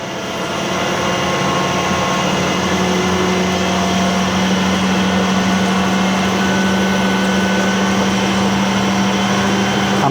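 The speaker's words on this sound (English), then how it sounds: "I could probably run the lathe a bit faster. That's 100 RPM." Lathe turning at 100 RPM with an annular cutter, a steady loud mechanical drone with a constant low hum, running unchanged from start to finish.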